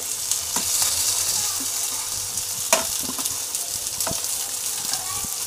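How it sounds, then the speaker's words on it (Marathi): Boiled potato being sautéed in a pan for ragda fries with a continuous sizzle, punctuated by intermittent sharp scrapes and taps of a spatula against the pan; a voice murmurs faintly underneath. "त्यामुळे थोडंसं आपल्याला रगड्यासाठी पाहिजे म्हणून असं परतून घ्यायचे"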